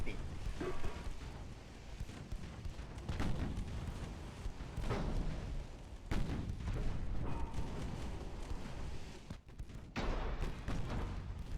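Naval gunfire in the warship game Ultimate Admiral: Dreadnoughts, with repeated heavy booms and rolling explosions at irregular intervals over a dense rumbling battle background.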